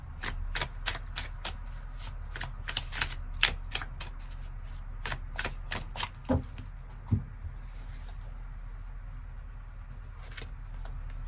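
Tarot cards being shuffled and drawn at close range, a run of crisp, rapid riffling snaps and soft slides that bunch up early, then thin into sparser flicks and taps over a low steady hum, with no talking.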